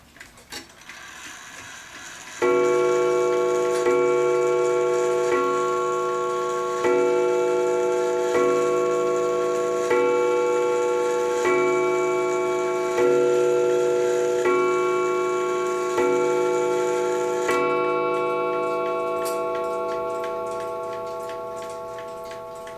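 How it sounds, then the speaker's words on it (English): An antique F. Krober clock from 1874, freshly oiled with its movement set level, ticks steadily and evenly, each beat ringing with a metallic resonance that carries on for over twenty seconds and slowly fades. "It seems to be ticking really nice."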